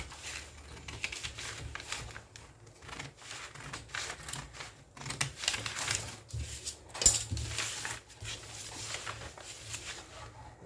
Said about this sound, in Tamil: இதை வந்து கட் பண்ணி எடுத்துக்கலாம்